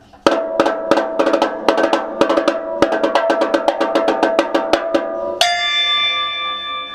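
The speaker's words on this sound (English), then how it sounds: "And then my cowbell tree" Metallic bell-like clanks from a cowbell tree struck in a quick irregular run, ringing together, then ending in one sustained bright ring that fades.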